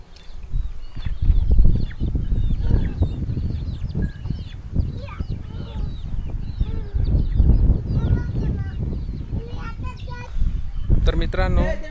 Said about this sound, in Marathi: बघा सगळे आलेत कोंबडे.